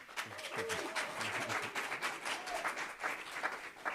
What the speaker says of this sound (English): That was the previous chair that started the applause.